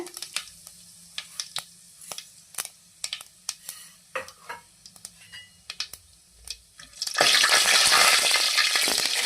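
Fennel, cloves and cinnamon for poori potato masala are stirred with sharp scraping clicks in a pan, then hot oil bursts into a loud, continuous sizzle.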